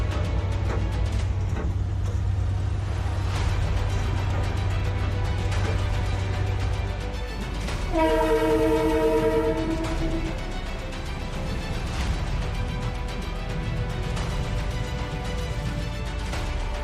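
A CP Rail train passing through Alberta rumbles steadily and broadly, with a sustained multi-tone horn blast rising out of the noise for about two seconds midway before the rumble carries on.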